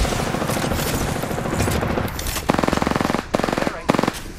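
Rapid automatic gunfire in a battle royale video game's final circle, loud and sustained with bursts of shots that sharpen into distinct rattling volleys in the second half, heard alone without talk.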